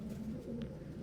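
A pet bird, likely a dove or pigeon, gives low, soft, repeated coos close by in a quiet room, with no voices.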